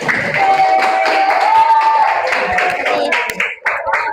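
A classroom of students claps for a presenting group during a small-group discussion lesson, loud and close, with scattered uneven claps and voices mixed in.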